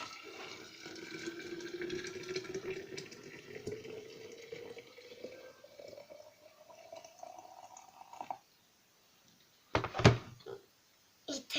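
Boiling water pours steadily with a rising, filling tone as the vessel fills, then stops; a few clinks and knocks follow.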